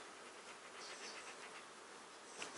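Bees buzz around their hives in an apiary, a faint, continuous insect drone with small swells in pitch, heard alone without voices.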